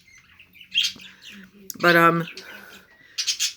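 Pet birds chirp indoors at home, giving a few short, close tweets and squawky calls in brief bursts, with a person speaking nearby.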